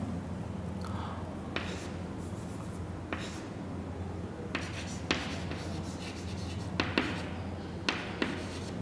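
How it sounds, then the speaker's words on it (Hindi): A pen writes on paper during an accounting lesson on partnership profit-sharing ratios, giving soft scratchy strokes broken by sharp taps and pauses, close and fairly quiet over a steady background hum. "मैं यहां लिखता हूं"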